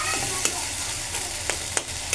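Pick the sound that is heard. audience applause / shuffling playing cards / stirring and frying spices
stirring and frying spices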